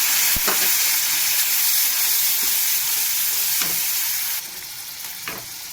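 Cumin, bay leaf and dried chilli spices sizzle loudly in hot oil in a pan, with a strong steady hiss and a few faint clinks. The sizzle eases slightly near the end.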